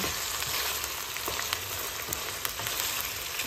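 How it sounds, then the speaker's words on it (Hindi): Chicken pieces fry and brown in oil, giving a steady dense sizzle with faint spits and crackles throughout, close and unbroken, with no talking. "कम से कम हमने इसको दस से पंद्रह मिनट जो है ना वो इस तरह सिर्फ तेल में फ्राई करना है"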